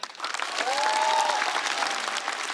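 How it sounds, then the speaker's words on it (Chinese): Audience applause at a stand-up comedy competition show fills the clip, a dense, steady clatter of clapping that holds loud throughout, with a brief tonal whoosh from stage effects rising near the start. "我们掌声再给小佳。"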